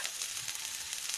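Vegetables including beans and carrots fry in a pan over high flame, giving a steady, close, hissing sizzle with no voice.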